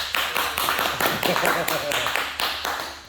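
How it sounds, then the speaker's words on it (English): Workshop audience giving a short round of applause, a small group clapping with a few separate bursts, close and moderately loud, with a voice talking over it. "Let's give him a round of applause, Gary."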